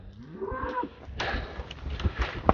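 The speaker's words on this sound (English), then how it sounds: "Let's get the cows going." Cattle low and moo as a herd is moved across a pasture, with a drawn-out bellow early on, then overlapping moos and rustling movement close by.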